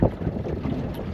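Outboard motor boat making its first outing on a lake after a winter of repair work, giving a steady, close broadband rumble with wind buffeting the microphone throughout.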